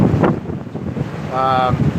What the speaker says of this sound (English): There's probably 20-30 mile per hour winds.